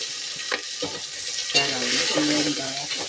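Fresh curry leaves fry in hot oil in a pan, producing a continuous close sizzle with occasional clinks and stirring scrapes.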